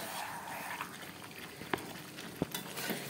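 Chicken braising in the juices it releases, with no added water, gives a steady soft simmering bubble and hiss, broken by a couple of sharp pops near the end, with no voices.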